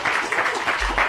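Studio audience applause at the BBC 6 Music Hub, a brief, dense burst of clapping that stays steady for about a second.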